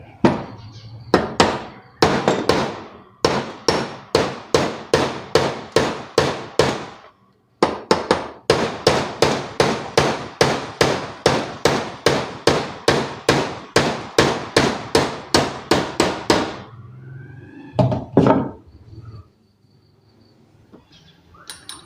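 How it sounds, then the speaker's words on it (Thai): Rapid, regular metallic hammer taps ring out in long bursts, sharp and close, as a fan shaft is tapped into place, with brief pauses between runs before a few final strikes. "ใช้ค้อนตอกนะครับ เบาๆ ครับเพื่อน"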